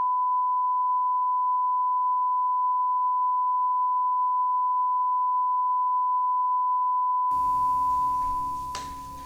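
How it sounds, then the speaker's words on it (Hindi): A censor beep tone laid over a police officer's abusive language sounds as one steady, loud pure tone lasting about eight seconds, with faint muffled background audio emerging beneath it near the end as it stops. "हमें पूरे जो ऑडियो है उस पर बीप लगाना पड़ा है"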